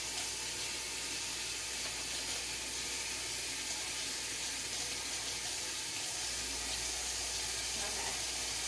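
Hands washed under a running kitchen tap, a steady close rush of water splashing into the sink, continuous and even throughout with no talking.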